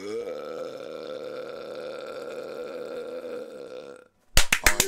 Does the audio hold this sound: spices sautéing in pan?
no